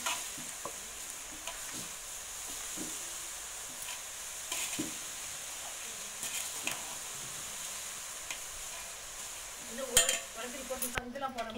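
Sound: boondi batter frying in hot oil

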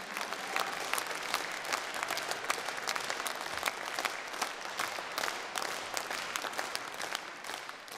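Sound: concert audience applause

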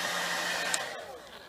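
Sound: hairdryer drying a glass painting

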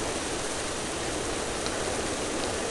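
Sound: thunder and rain in Treasure Adventure Game video game

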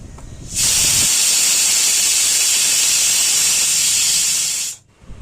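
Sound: pressure cooker whistling steam while boiling dal

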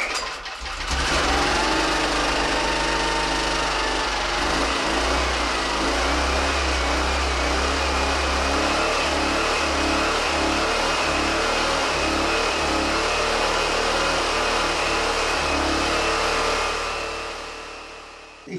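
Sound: engine started running on new emulsion fuel

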